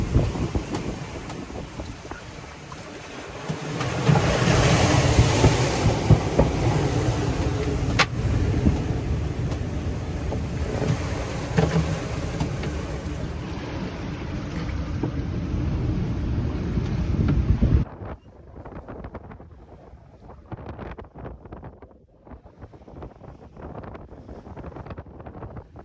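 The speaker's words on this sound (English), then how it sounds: "We're seeing winds well into the 30s now. Waves are about 15 feet." Sailboat at sea in winds into the 30s with waves about 15 feet: loud roaring wind buffeting the microphone and rushing water for most of the stretch, then dropping abruptly to quieter splashing and sloshing with scattered knocks.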